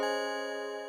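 A single bright, buzzy synthesizer tone with its second oscillator wave turned to maximum sounds for just under a second, rich in harmonics and fading slightly toward the end, alone and fairly quiet.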